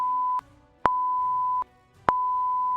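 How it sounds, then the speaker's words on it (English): A reversing truck's backup beeper sounds in steady, evenly spaced electronic tone pulses, moderately loud and clear with no voices over it. "Truck backing up."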